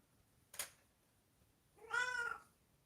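A domestic cat gives a single clear meow near the microphone in a quiet indoor room, preceded by a brief sharp click or thud.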